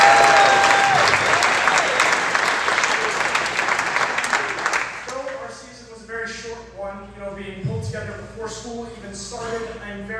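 Audience applause for a school tennis team at a 2024 athletics celebration, a dense, loud wash of clapping for about five seconds that then dies away as a voice begins speaking.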